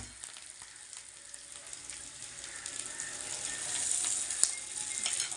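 Potatoes frying in a pan, a steady soft sizzle that builds slightly louder over the stretch, with a faint scrape or two and no talk.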